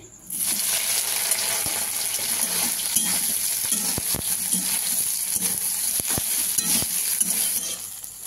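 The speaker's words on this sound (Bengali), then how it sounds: "আমার তেলটা গরম হয়ে গেছে, আমি সোয়াবিনটা দিয়ে দিচ্ছি।" Soybean chunks frying in hot oil in a pan, a close, continuous sizzle and crackle with occasional clinks of a utensil against the pan while stirring, no voices.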